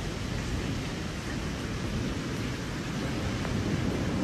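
Steady rain hisses continuously, an even wash of noise with no voices.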